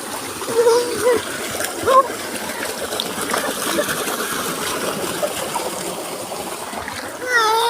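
Water from a village tubewell pump gushes and splashes in a steady, rushing stream. A few louder splashes stand out, and voices are briefly heard in the background.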